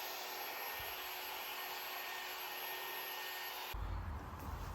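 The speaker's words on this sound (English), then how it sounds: "Now for this cut, you'll see I'm using a much smaller head on the polisher." A car polisher fitted with a small head buffs the paint of a Mercedes 190SL during a repaint, making a steady whirring hiss that holds level and then shifts to a deeper rumble near the end, heard close with no talk.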